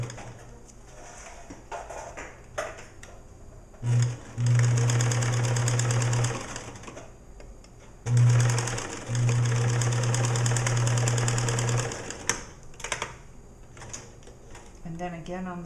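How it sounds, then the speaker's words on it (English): Sewing machine running in two bursts as it stitches the front and back of a boy's bereavement gown together at the shoulder seam, a steady close-up whir stopping and restarting, with quiet voice and handling noises in between. "I'm going to go ahead and sew the front to the back at the shoulder seam."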